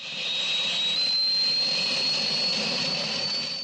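An aircraft engine drones loud and steady as power is added, a high whining tone running over a broad roar with no voices over it.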